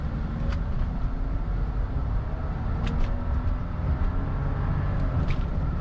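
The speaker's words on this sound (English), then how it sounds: "let's go for a ride in the Phantom. Tally-ho! I'll give it a fairly hard acceleration." A Rolls-Royce Phantom accelerates hard, heard from inside the cabin as a steady, muffled low rumble of engine and road noise that holds an even level throughout, with a few faint clicks and no talking.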